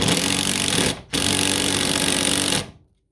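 A power tool hammers in a loud, continuous rapid rattle, pauses briefly, then rattles again before stopping, like an impact driver sinking a screw into wood.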